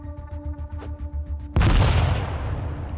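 Grenade blast in the turn-based combat of ATOM RPG: after a stretch of rhythmic low background music and tones, a sudden loud, booming explosion hits and rumbles with a decaying tail.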